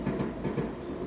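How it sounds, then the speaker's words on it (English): A train passing close by, a steady low rumble with faint rhythmic clatter, continuous and alone. "excuse the train, I live nearby"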